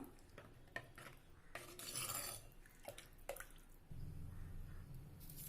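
Water is poured into a pan of simmering Tamil potato curry, giving faint splashing, stirring and clinking of a metal pan, then a steady bubbling rush near the end.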